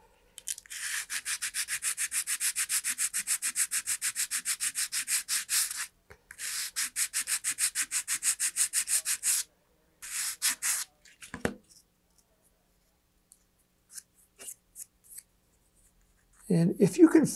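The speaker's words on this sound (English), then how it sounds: "now I'm going to get flatter and flatter as I'm sanding." Rapid rhythmic scraping of sandpaper worked by hand across a wooden model rocket fin fillet, close and steady in long back-and-forth runs with short pauses, then a few scattered strokes and light handling noises.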